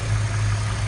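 A large car engine idles steadily with a deep, constant low rumble and no other sounds, close by and unbroken throughout.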